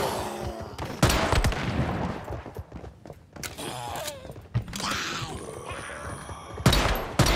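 Enemy gunfire in the survival shooter Once Human, a string of sharp close shots scattered across several seconds amid busy game ambience and thuds, with a few louder bursts near the end.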